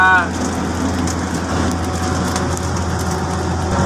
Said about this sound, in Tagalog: Wala kami na malakas na ulan ito.